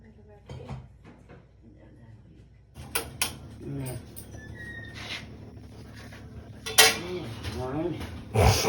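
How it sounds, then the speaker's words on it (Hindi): Pots and a frying pan clatter in a home kitchen during tea making, with scattered metallic clinks and knocks that grow busier partway through, under a voice talking. "मैंने कहा फ्राई पैन दूसरा दो निकाल के मुझे, फिर मैं चाय चढ़ाती हूँ"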